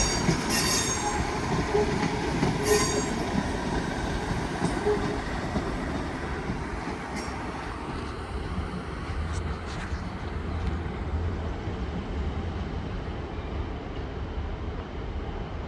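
Class 150 diesel multiple unit rolling slowly into sidings just outside a station, a steady moderate rumble of wheels and engine with a few brief high squeals early on.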